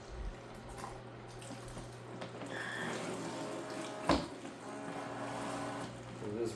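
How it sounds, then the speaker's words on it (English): A self-cleaning microfiber mop being rinsed with water, a soft steady trickling and swishing with a brief thump near the middle, faint and close. "It is rinsing it with water when it goes through."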